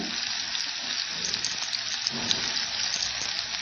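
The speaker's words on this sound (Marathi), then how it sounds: "आपण चिरून घेतला होता त्यातला अर्धाच कांदा मी आता याच्यामध्ये टाकून घेणार आहे" Chopped onion frying in a pan for Kokani-style sukat chutney made with dried fish and kokum, a steady close, loud sizzle with faint stirring scrapes running throughout, no voices.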